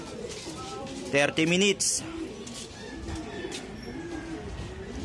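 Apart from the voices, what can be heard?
pigeons cooing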